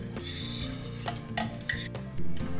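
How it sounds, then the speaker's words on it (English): Metal spatula stirring Karachi halwa cooked with ghee and sugar syrup in a pan, steady scraping and clinking against the metal over a continuous sustained tonal background. "Keep on adding the sugar syrup and keep stirring"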